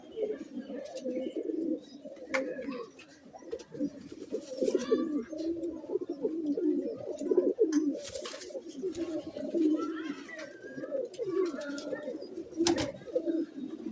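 Many pigeons coo steadily and overlap in a loft while pairs are being matched for breeding, a dense continuous murmur with occasional wing flaps and clatters.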